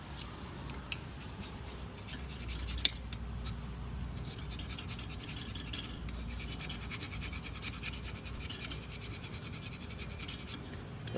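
Faint scraping and scratching of a flathead screwdriver cleaning inside the brake caliper of an Alfa Romeo Giulia, light irregular rubbing strokes with one sharp tap.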